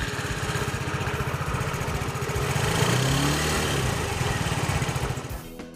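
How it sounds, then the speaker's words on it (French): A small 115 cc MBK Flipper scooter engine fires up and settles into a steady, even idle, its low pulsing putter running close and continuous before cutting off at the end. "à la première impulsion sur le démarreur, le petit moteur 115 cm3 s'ébroue en silence"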